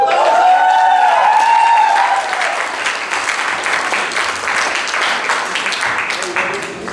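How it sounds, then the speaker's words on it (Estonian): An audience at a concert breaks into lively applause as a jazz trio is introduced, many hands clapping densely and loudly while a voice speaks over the start. "võid aplodeerida"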